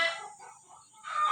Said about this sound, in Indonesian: Tuh ayam